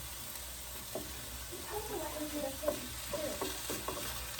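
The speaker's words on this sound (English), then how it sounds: "I'm going to continue cooking this off until that sears off that oil" Meat sears in oil in a soup pot with a soft, continuous sizzle, while occasional stirring knocks and scrapes of a utensil against the pot rise above it. A faint voice is heard in the background.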